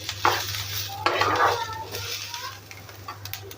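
Ten to fifteen garlic cloves and an inch of ginger go into a hot pan for soybean bhaji, landing with a couple of sharp clattering bursts followed by a gentle sizzle and scraping stirs close by.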